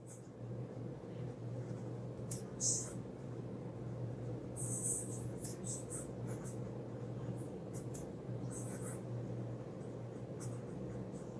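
A Conklin Crescent filler fountain pen with a medium nib writes on paper, its faint scratchy strokes coming in soft bursts over a steady low background hum.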